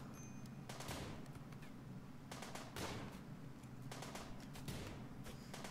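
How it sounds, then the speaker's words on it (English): Machine gun fire in the Rimworld colony-sim game, rapid bursts of faint, distant shots clustered in several short volleys over a steady low background. "oh my god, he got a machine gun"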